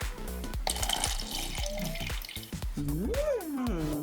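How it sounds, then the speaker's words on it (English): Water pours and trickles into a cup in a short run of drips and splashes, with a rising gurgle as the cup fills near the end. "I'm just going to pour a little water in my cup here."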